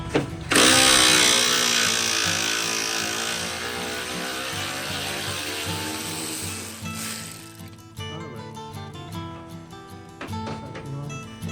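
Power tool removing a bolt from a 2010 Toyota Corolla headlight assembly, a loud whirring drill-like buzz that runs steadily for most of the clip, shifting pitch partway through, close up with no talking.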